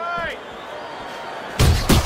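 Punches landing in the Fight Night Champion boxing video game, two sharp heavy thuds near the end after a stretch of crowd noise, with a commentator talking over it.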